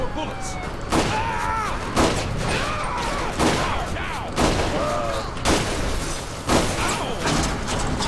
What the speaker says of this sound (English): Now let's switch over to a shotgun.